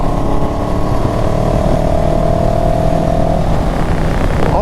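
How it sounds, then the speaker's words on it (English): A 2022 CFMOTO 700CL-X motorcycle on the freeway, a steady engine drone with a low, gurgling, rumbling exhaust note holding constant, with a faint rising whine near the end, nearby and loud. "It has a very gurgly exhaust sound"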